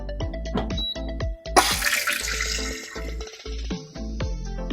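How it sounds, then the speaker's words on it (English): A smart toilet with a booster pump flushes: a sharp gush bursts in after a run of short clicks and tones, then water rushes and swirls noisily before settling into a lighter trickle with faint tonal beeps. "Most of the smart toilets will use the booster pump to increase the water pressure."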